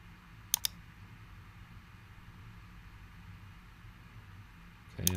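Two quick mouse clicks near the start, then another burst of clicks at the end, faint and close against a low background hum while working in CAD software.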